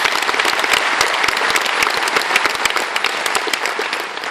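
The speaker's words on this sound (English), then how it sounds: "I'd ask you to acknowledge their presence also by your applause" Audience applause at an Irish citizenship ceremony in the Dublin convention centre, a large hall full of steady, loud clapping throughout.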